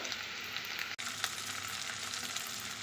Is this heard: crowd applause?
no